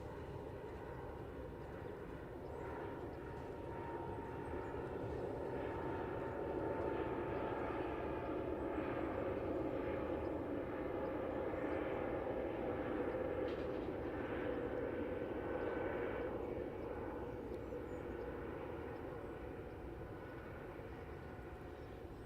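Lufthansa airplane taking off from Heathrow runway 09R, a steady loud jet engine roar that swells and holds for the full stretch, heard from a distance in the open air.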